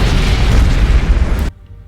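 The starship Aurora explodes in a loud, dense roaring blast that rumbles continuously for about a second and a half, then cuts off abruptly into near silence.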